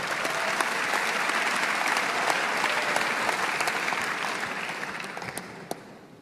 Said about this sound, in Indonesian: Tepuk tangan sekali lagi untuk IPDN.